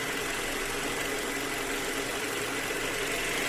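A 2-litre Kia Optima engine idles smoothly and evenly, a steady broadband hum heard close under the open hood, unchanging throughout with no voices.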